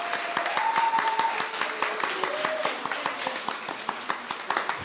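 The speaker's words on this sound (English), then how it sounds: "a big round of applause for our piano" Audience applause at a panel discussion on creativity, mental health and young people, moderately loud crowd clapping with distinct sharp claps standing out, tapering slightly over a few seconds.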